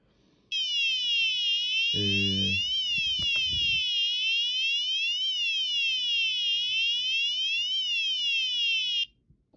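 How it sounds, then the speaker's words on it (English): A loud electronic alarm siren from a buzzer on a wireless motion-sensor board wails continuously, its pitch sweeping up and down in a steady warbling pattern; a brief clatter sounds near the start. "the siren starts"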